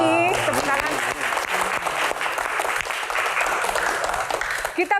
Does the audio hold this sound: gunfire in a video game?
no